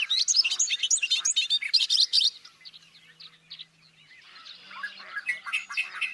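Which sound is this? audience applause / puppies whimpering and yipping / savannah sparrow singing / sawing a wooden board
savannah sparrow singing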